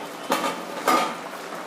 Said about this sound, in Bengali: 15 মিনিট হয়ে গেছে, এবার আমি ঢাকনাটা খুলে নেব।